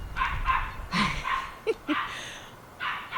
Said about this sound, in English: My little dog, he must hear me out here. He hears my voice and he knows I'm out here. So he just be barking.